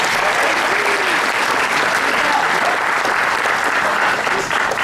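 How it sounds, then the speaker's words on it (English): An audience gives a big round of applause for Mark James at a horror makeup show, loud and dense clapping from many hands filling the whole few seconds without a break. "let's have a big round of applause for Mark James."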